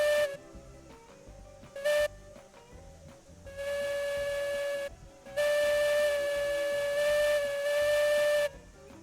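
Steam locomotive whistle in the Railroads Online video game: two short toots followed by two longer sustained blasts, loud and clear with a breathy hiss, separated by brief pauses of quieter ambience.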